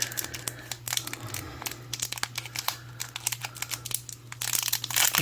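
A plastic baggie holding bead components crinkles and crackles as it is worked open, a busy run of close, dry rustles and small crackles with no talk.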